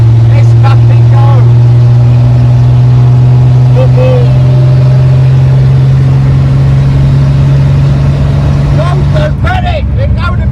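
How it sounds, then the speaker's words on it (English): Chevy Stylemaster car travelling fast on the road, its engine a loud, steady low drone throughout, with voices talking over it inside the car. "I don't feel comfortable going very fast in this car, it's a bit bouncy."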